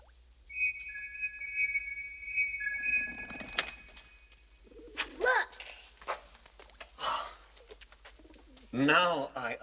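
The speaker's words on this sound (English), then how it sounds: "A magic pigeon." A pigeon cooing in a film scene, soft repeated coos with shuffling and thumps, mixed with other sounds including speech-like voices, moderately close.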